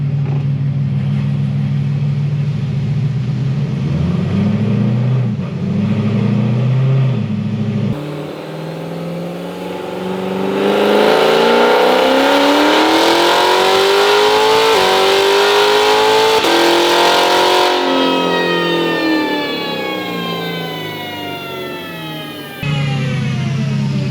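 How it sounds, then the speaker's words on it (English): A supercharged Corvette C7 Z06 with full bolt-ons and a Kong X-Port blower runs on a dyno, its engine roaring loudly and climbing in pitch through repeated pulls, with abrupt drops at the gear shifts. "going to check shift points on this thing"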